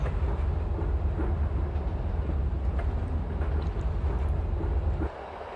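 A train running in the Open Rails train simulator, a steady low rumble of engine and wheels with faint rhythmic clicks, loud and continuous until the low drone drops away near the end.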